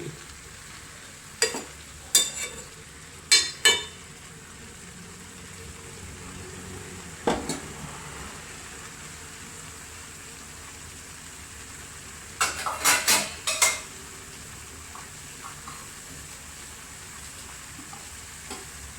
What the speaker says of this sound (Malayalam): ഇങ്ങനെ ഒന്ന് ഇളക്കി കൂട്ടി വെക്കാം